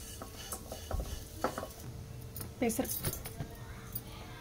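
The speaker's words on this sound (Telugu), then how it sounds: "ఇప్పుడు కప్పు అటుకులు వేసుకొని వేయించుకోవాలి" Thick flattened rice (poha) roasting in a pan for payasam: faint scraping and rattling as the grains are stirred, with light metallic clinks, under a voice talking quietly.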